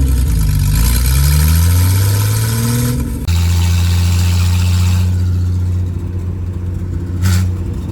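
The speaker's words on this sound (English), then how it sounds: "This engine was pulled out of a rusted 240Z that sat idle for 10 years. And it just fired right up." Datsun 240Z engine pulled from a rusted car that sat idle for ten years, running loud and close, revving up and down then settling into a steady idle, with a brief clunk near the end.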